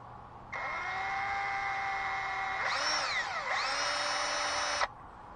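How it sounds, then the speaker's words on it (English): A power drill whines loudly and steadily for several seconds, its pitch dipping midway as it bites into a broken dipstick on a PT Cruiser, then cuts off. "So first we're going to drill a hole."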